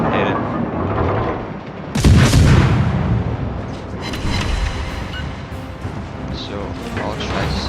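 Warship guns in World of Warships fire with a heavy boom partway through, followed by rumbling, scattered blasts and lingering battle noise while a voice talks over it.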